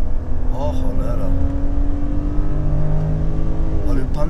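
A BMW 530i E39 engine is revved hard toward its 6,500 rpm redline, a loud, close mid-pitched roar rising and holding, with people talking over it.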